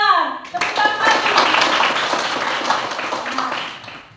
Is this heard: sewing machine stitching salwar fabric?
no